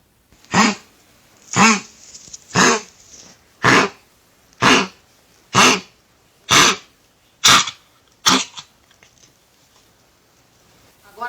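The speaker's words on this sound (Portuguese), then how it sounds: "Agora vamos à tosse com colapso de traqueia." A dog with a collapsed trachea gives a harsh, honking cough about nine times in a steady rhythm, loud and close, then stops.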